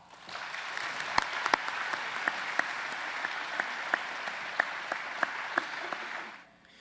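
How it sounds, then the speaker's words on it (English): An audience at an annual youth achievement awards event applauds the winners, a sustained wash of many hands clapping with a few sharper individual claps standing out, fading away at the end. "Please join us in showing these winners some love with a warm applause."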